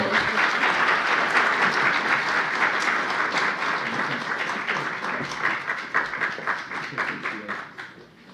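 Audience applause fills a seminar panel session on criminal law: dense, steady clapping from a sizeable crowd that holds strong, then thins into scattered individual claps and fades.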